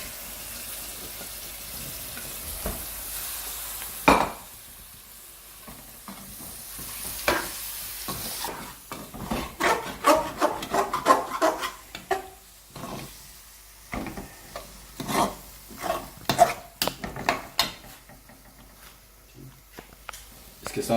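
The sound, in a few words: tomatoes frying and being stirred in a karahi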